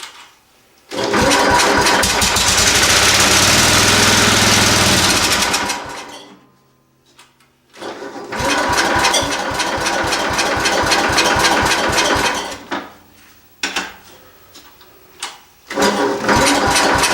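A tractor engine cranks and fires up on choke, running loud and rough for several seconds before dying, then catching again with a steady chugging rhythm that stutters and restarts near the end.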